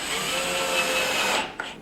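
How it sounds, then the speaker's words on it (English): Power drill driving a screw into wood while building a bat house, a steady high whine lasting over a second, then cutting off with a faint click. "And now I'm fastening it with a screw."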